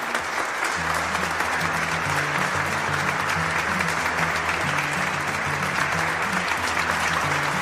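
Steady classroom applause for two students who have just presented a vector answer, dense and continuous clapping throughout with a faint low musical hum underneath.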